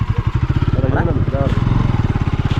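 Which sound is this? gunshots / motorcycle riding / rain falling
motorcycle riding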